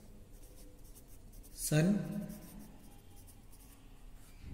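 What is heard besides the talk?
writing an answer on a board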